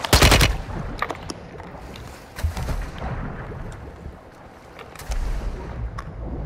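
Gunfire in Call of Duty: Modern Warfare II: a loud burst of shots opens, then scattered single cracks and short bursts follow. They sound at middling distance over a rushing background, with no talking.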